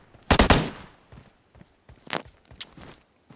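Enemy gunfire in the mobile battle-royale game PUBG Mobile: a loud burst of rapid shots near the start, then a few scattered single cracks and softer thuds, with no talking.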